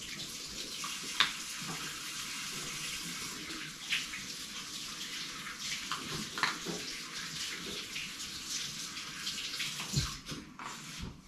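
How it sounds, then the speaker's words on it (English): Tap water runs steadily while someone washes their hands at a sink, a close, continuous broadband gush with small splashing spikes as the hands move through the stream, and one brief spoken word. "Wait, I wash my hand."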